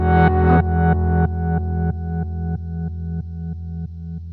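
Hologram Microcosm delay pedal with octave pitch-shifting delays on a sustained guitar chord, which repeats in steady rhythmic pulses about every third of a second and gradually fades in loudness and brightness over several seconds, with no talking.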